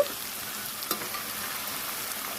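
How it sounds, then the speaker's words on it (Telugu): Ginger paste frying in a pan for a chicken pickle gives off a steady, close, hissing sizzle with a few small pops and stirring scrapes, and no voices. "ఇది చక్కగా మొత్తం కూడా వేగాలండి, పచ్చి వాసన పోయే వరకు మంచి స్మెల్ రావాలన్నమాట"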